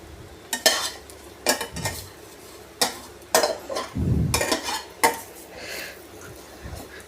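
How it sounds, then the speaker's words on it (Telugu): Deep-fried bitter gourd pieces are stirred into spice masala in a pan, giving intermittent scraping and clinking strokes of a spoon against metal with a soft sizzle, fairly quiet and close. "ఇట్లా మసాలాలు మొత్తం కాకరకాయకి పట్టేటట్టు, ముక్కలుగా పట్టేటట్టు ఇట్లా కలుపుకుందామండి."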